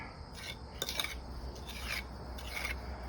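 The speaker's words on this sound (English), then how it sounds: "I found that like scrubbing the mortar down like this, putting a bevel on it, helps to tighten it, seal it to the rock." A trowel scrubs mortar onto the back of a rock veneer piece, making a gritty rasping scrape repeated about four times in short strokes, close but fairly soft, over low background hum.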